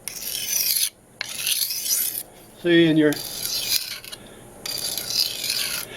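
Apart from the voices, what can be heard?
knife sharpening on whetstone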